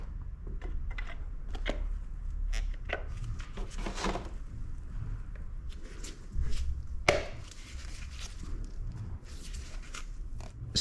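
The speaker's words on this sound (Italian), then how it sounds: "Prendiamo il nuovo filtro e adesso lo possiamo reinserire nel contenitore." A new fuel filter on a Fiat Ducato is handled and pushed into its plastic housing, giving a run of close, dry clicks and scrapes with a sharper knock about two-thirds through, over low background noise.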